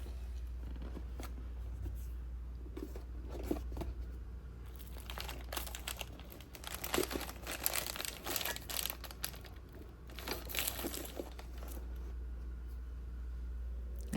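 Plastic snack and sandwich baggies crinkle and rustle up close, soft at first, then a denser burst of crumpling in the middle that fades again over a low steady hum.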